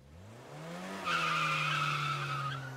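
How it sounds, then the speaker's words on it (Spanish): Sudden braking car tires screech in a sustained, high squeal that starts abruptly after a rising engine note and holds for over a second, loud and close with no talk. "¿Qué pasa con su cuerpo al escuchar un frenazo y usted está en una moto?"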